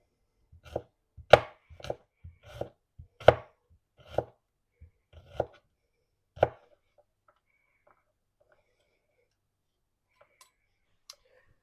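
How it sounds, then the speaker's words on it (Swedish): A knife slicing garlic cloves on a cutting board for a pressure-canned beef stroganoff, about ten crisp close chops in an uneven rhythm that slows and trails off into near silence with a couple of faint taps near the end. "Vitlöken tar vi och skivar."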